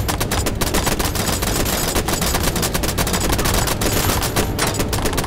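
Gunfire in the Spider Horror Multiplayer video game: dense, continuous rapid automatic fire that stays loud and steady throughout, with many overlapping shots and no pauses.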